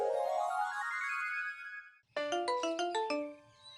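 A mobile phone ringtone plays loud and alone: a rising melodic glide for about two seconds, then a brief gap and a bright run of repeated chime-like tones.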